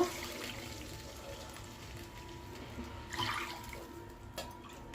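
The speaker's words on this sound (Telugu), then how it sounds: "ఇప్పుడు ఎసురు పోసుకుందాం." Water pouring steadily into a cooking pot nearby for wheat rava upma, a continuous splashing rush with a few brief louder gushes.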